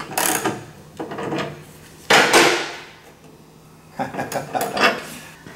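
A jack and a wheel stand are moved under a 2017 Suzuki GSX-R1000 in a garage, making several close metallic clanks, rattles and scraping knocks in separate bursts.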